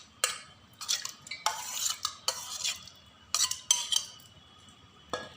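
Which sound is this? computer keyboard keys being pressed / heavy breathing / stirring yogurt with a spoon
stirring yogurt with a spoon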